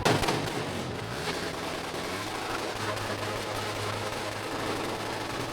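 Loud customized motorcycles rev inside an indoor court at a motor show, a dense, continuous roar of engines with a steady low throb running beneath, sustained and close throughout.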